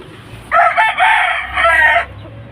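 A rooster crows nearby, one long loud cock-a-doodle-doo lasting about a second and a half, with no talking.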